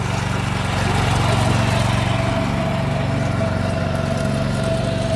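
A power tiller engine at a live demonstration revs at full throttle, giving a loud, continuous, buzzing drone with a steady pitch throughout.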